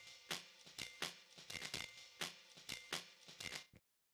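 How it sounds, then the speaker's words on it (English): Old-school jungle-style drum and bass breakbeat loop, crisp snares and kicks hitting in a fast syncopated pattern, played alone and cutting off abruptly near the end. "So like a drum and bass type beat, like kind of an old school like jungle style breakbeat."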